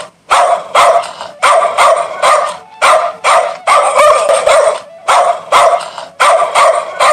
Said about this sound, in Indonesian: Anjing peliharaan mereka yang terus menggonggong